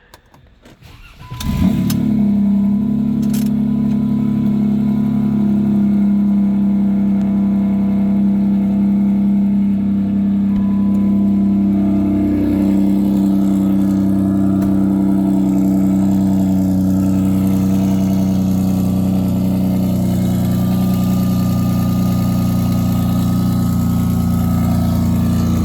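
Turbocharged Dodge Challenger engine cranking and catching, then a brief rev before settling into a loud, steady, rumbling idle that drones on without pause.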